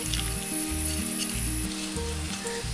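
Fenugreek roasting in coconut oil over a low flame for a Kerala brinjal theeyal, a steady close sizzle and hiss running alongside a stepped, tonal melody-like background.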